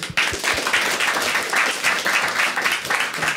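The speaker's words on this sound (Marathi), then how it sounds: "ठीक आहे एकदा टाळ्या वाजवायच्या" Audience at a Marathi stand-up comedy show breaks into applause, a dense burst of rhythmic clapping that starts abruptly and holds steady for a few seconds, fairly close and lively.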